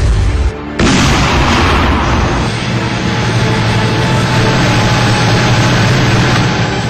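A T-90 tank gun fires on a training range at Ahmednagar, a sudden heavy boom followed by a long, rolling rumble that fills the remaining seconds.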